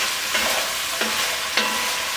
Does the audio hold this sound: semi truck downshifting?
no